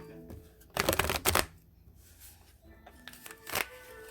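Tarot cards being shuffled, two short crisp riffling bursts, the first a dense flutter lasting about half a second, the second briefer, set against a quiet room.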